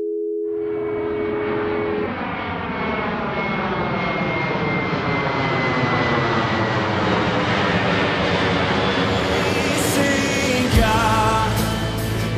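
An airplane flies past with a loud, steady jet-engine roar whose layered tones slowly shift in pitch, with no voices, ending with an abrupt change in the sound near the close.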